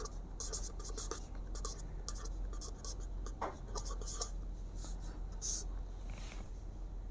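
Pen scratching on paper while a math problem on polynomials is written out, a run of quick strokes in short bursts, close and fairly quiet over faint background hiss.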